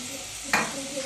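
Ghee heating in a pan, a quiet low sizzle with one brief scraping burst near the middle, close and faint, no voices.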